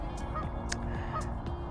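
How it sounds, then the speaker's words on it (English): Geese honk at a lake used for day-ticket fishing, with several short calls spread across the clip over steady outdoor background noise. "There's just geese here all the time."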